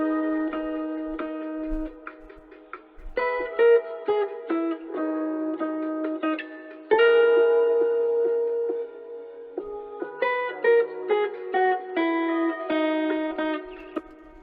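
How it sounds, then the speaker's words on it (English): A small acoustic guitar plays a jazzy, sample-style chord progression with plucked notes and sustained chords, close and clear for about fourteen seconds, with faint low thumps of drums in the background. "I have my little acoustic guitar"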